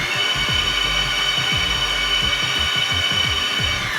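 A power tool tightening the motor on a Boosted Board electric skateboard, a close whirring with short repeated bursts and a high steady whine underneath, lasting about four seconds with no speech.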